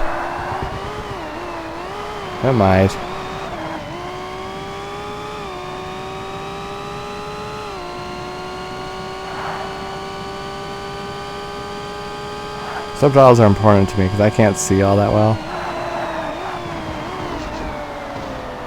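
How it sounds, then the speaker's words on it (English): An endurance-class RP1 race car in Forza Motorsport drones at a steady engine pitch. Two short bursts of revving rise and fall near the start and again toward the end, with someone talking over it. "Hopefully this car isn't too loud."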